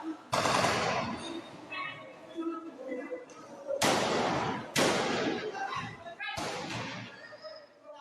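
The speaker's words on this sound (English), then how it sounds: "Terrorists opened fire during worship." Bursts of gunfire erupt as terrorists open fire on worshippers during a church service in Nigeria, with several sharp, loud cracks separated by short gaps and voices heard in between.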